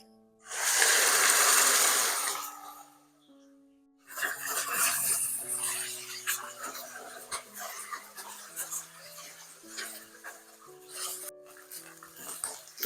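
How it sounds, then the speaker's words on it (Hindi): Pieces of meat dropped into hot oil with whole spices, a loud sizzling burst lasting a couple of seconds, then quieter crackling frying under background music. "गोश्त को ऑयल में फ्राई करेंगे,"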